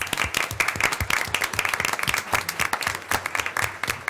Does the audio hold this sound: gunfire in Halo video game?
no